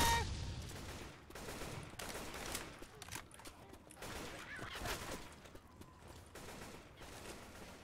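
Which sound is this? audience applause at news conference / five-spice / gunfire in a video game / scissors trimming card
gunfire in a video game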